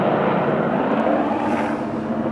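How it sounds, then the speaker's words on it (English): Helicopter passing overhead on a foggy coast, a steady loud rotor-and-engine roar that holds level throughout with no other sounds. "Helicopter flies overhead."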